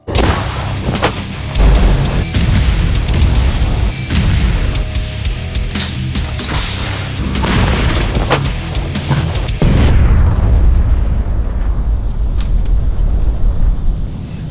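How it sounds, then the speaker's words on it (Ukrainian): A series of heavy booms and sharp blasts from self-propelled artillery guns firing, loud and close, with wind buffeting the microphone and rumbling echoes fading afterward. "Час стріляти за обрій, заряджай, гармата, постріл."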